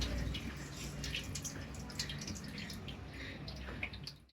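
Water dripping and trickling as it drains from soaked poppy seeds into a vessel below, a fairly quiet, continuous patter with scattered splashy drops that fades out at the end.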